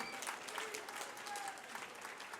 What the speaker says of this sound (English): give these two young warriors a huge round of applause